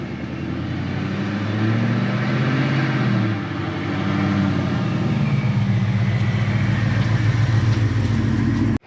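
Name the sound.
car engine idling rich after cold start, Bassani exhaust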